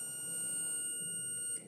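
A multimeter in continuity mode beeps as it probes an SMD capacitor to ground on a cell phone board: one steady, high-pitched tone held for about a second and a half, quiet and alone.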